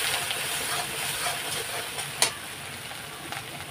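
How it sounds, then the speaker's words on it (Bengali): Spice masala frying and being stirred in a pan for a Bengali chicken kosha, a steady close hiss and sizzle with one brief clatter midway, no talking. "তা এখন আমি কষিয়ে নেবো ভালো করে।"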